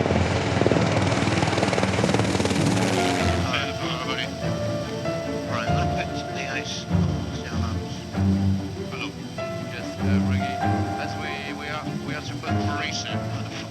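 A rescue helicopter's rotor thumps and engine drone loudly, continuing as talk with background music runs over it.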